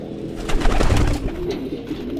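A pigeon coos close and loud, a low throaty rolling call that swells and then trails off, alone with no speech.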